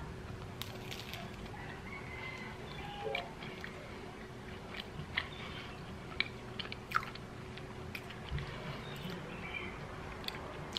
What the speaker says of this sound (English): these cheese rolls are delicious it's they have like this crunchy croissant listen to